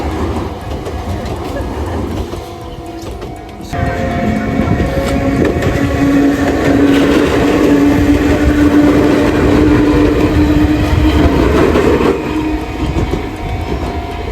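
A small local train passes along the seaside at Kamakura, its steady rumble and wheel clatter close and loud throughout, swelling through the middle before easing slightly at the end.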